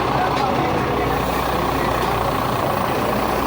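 A garbage truck's heavy engine rumbles steadily as it reverses at a market, with a constant low drone and broadband noise throughout. It is close and loud, and speech may be mixed in.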